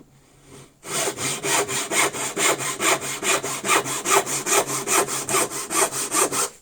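A re-toothed handsaw cross-cuts wood in steady, even strokes, each rasping pass loud and close, about three strokes per second after a brief quiet start.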